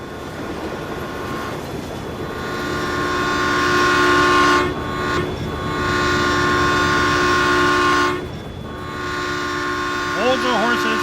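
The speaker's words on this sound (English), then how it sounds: "Oh, here comes the train." A train rumbles past with a steady mechanical drone and a sustained horn in the game Farming Simulator 22, loud and close, with brief speech near the end.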